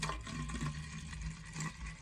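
Water pours steadily into a spray bottle, a low gurgling fill close by with no talking.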